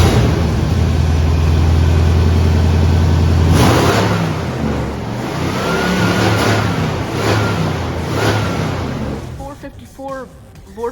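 A 454 Vortec V8 destined for a 1954 Chevrolet Bel Air idles loudly, then is revved in several rising and falling bursts, settling toward the end with some faint talk.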